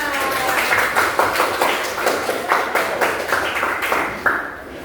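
A classroom of students performs the tepuk jempol rhythmic clapping game, a group clapping in a regular patterned beat with brief pauses, fairly loud and close, with some voices chanting along.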